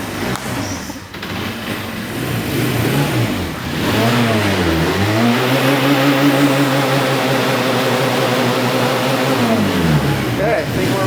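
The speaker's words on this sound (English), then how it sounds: "Craig, you got a bike running" A motorbike bought at an estate auction runs close by, revving up and down in loud, smooth swells of engine pitch before holding a steady higher note.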